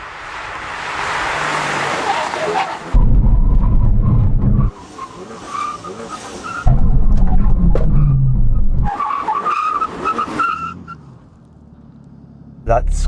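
Cars in a brake test on a track roar past in several loud bursts of engine noise and tire skid, separated by quieter stretches where voices can be heard.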